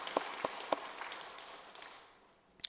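A church congregation at a thanksgiving service gives sparse, fading applause, a few distinct claps over a soft wash of clapping that dies away, with a sharp sound right at the end.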